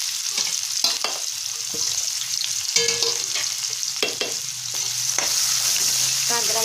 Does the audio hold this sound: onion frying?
yes